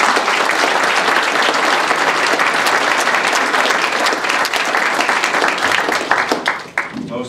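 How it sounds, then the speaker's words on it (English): A meeting audience applauds the governor at a Morris County freeholders reorganization meeting, a loud, dense round of clapping that stays steady throughout and thins out near the end. "I think we should give our governor a round of applause"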